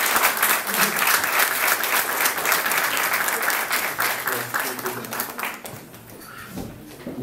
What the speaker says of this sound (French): Nous pouvons applaudir au pasteur Brett